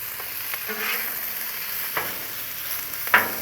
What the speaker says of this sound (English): let's go ahead and get this bacon on here